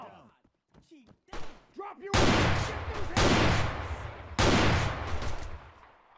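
Heavy shotgun blasts firing stun rounds in the military shooter ArmA 3, a few loud booming bursts after some quieter clatter and speech-like sounds at the start.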